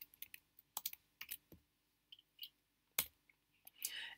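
Keys clatter on a computer keyboard as PHP code is typed, in short irregular bursts of close, crisp clicks separated by brief pauses, with no speech.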